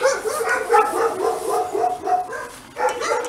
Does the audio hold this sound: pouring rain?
no